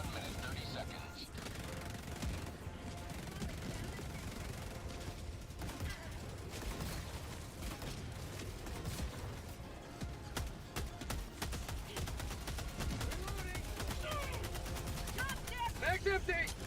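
Constant gunfire in the Helldivers 2 video game, with dense rapid bursts and loud explosive booms layered in a chaotic battle mix, and a voice briefly shouting amid the shooting.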